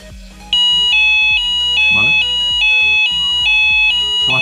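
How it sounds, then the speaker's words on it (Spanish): A Delkim carp-fishing bite alarm in anti-theft mode sounds loud, repeated high electronic beeps in a steady rhythm, with faint handling noise beneath. "vais a escuchar unos sonidos muy característicos de Delkin, de antirrobo"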